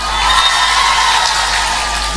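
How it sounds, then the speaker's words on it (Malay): A large audience at a humorous Islamic sermon breaks into sustained, dense applause and cheering, a steady loud roar of many hands and voices filling the space. "Tepuk tangan."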